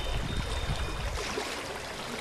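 A small creek runs under a tiny bridge in the small town of Cleveland, giving a steady, close wash of flowing water with low rumble, continuous and without voices.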